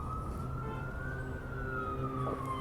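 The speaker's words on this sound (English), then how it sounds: "Y'all don't hear the siren in the background?" A siren wails in the distance, its pitch slowly rising and falling over a steady low rumble of background noise.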